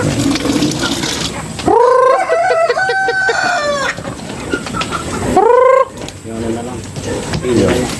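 Native chickens and breeder hens cluck busily nearby while a rooster lets out two loud crows, one early and one later, over constant farmyard clucking.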